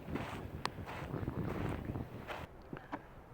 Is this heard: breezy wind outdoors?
yes